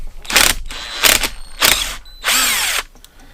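A power tool with a 1/2 inch socket working a fastener loose on a Mercury 115hp inline six outboard water pump, in four loud, close whirring bursts separated by short pauses, the last burst longer.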